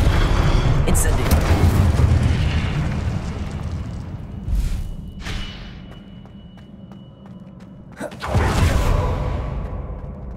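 Incendio fire spell cast in Hogwarts Legacy, a loud booming burst with a fiery whoosh, followed by a quieter lull and then a second explosive blast near the end.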